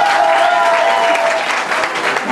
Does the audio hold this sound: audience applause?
yes